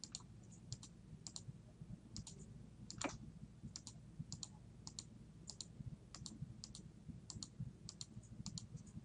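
Quiet, crisp computer mouse clicks tap out an irregular rhythm while points are placed around a design in CorelDRAW. They sound close and isolated over a faint room hum.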